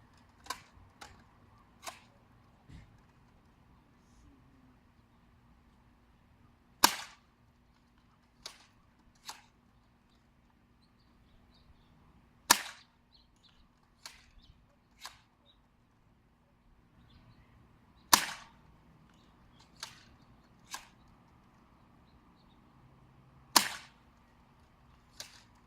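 Foam-dart blaster built from a JET Omega kit with 16 Aussie Turf springs, fired outdoors on a flat range: several sharp, loud single snaps with pauses between, each followed by a faint small click, over quiet background.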